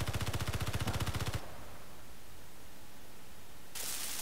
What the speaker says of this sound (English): So a couple rounds of the rapid fire automatic machine gun